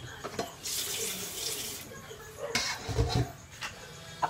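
Water running from a tap into a sink during handwashing with soap mixed with Clorox bleach, a close, steady splashing stream that rises and falls as the hands move under it.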